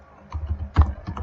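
A few clicks on a computer keyboard come close and fairly loud, irregular keystrokes with one sharper tap near the middle.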